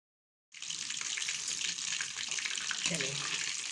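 Lahori fish pieces fry in oil over medium heat, a constant dense sizzle starting abruptly and holding steady, close and fairly quiet, with a brief voice murmuring near the end.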